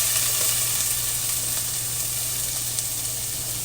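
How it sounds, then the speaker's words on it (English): Onions sizzle steadily in a smoking-hot stock pan, a dense, even frying hiss that stays loud and close with no talk over it. "my stock pan is starting to smoke, so that means we need to go ahead and add our onions"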